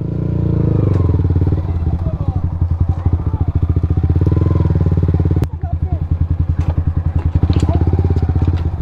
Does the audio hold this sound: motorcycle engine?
yes